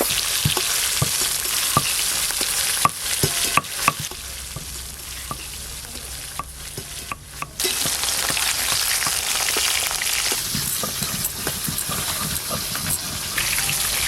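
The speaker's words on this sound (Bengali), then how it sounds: "মাছ খুব ভালো করে ভাজা হয়ে গেছে।" Fish frying in hot oil in a home kitchen, a loud, dense crackling sizzle with frequent pops and spatters. It eases briefly midway, then returns at full strength, with no talking.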